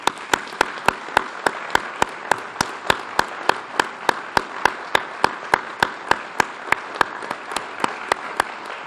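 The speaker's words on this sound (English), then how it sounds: "give them a round of applause" Steady, evenly spaced sharp claps fill a police promotion ceremony in New Bedford, a regular rhythmic beat held for several seconds with no talk over it.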